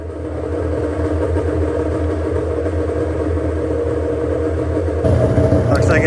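A cheap used snowmobile's engine runs steadily and loud throughout, a low continuous drone that rises in intensity near the end as it is revved.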